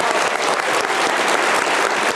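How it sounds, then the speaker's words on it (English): A large audience at a panel event on law and democracy applauds loudly and continuously, dense close clapping with faint cheering mixed in and no clear talk. "You can cheer, that's okay."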